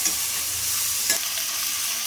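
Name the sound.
vegetables and bottle gourd stems frying and being stirred in a pan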